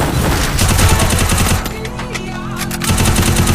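Automatic gunfire rattles in a shooting video game, loud rapid bursts at close range with a brief lull in the middle before firing resumes.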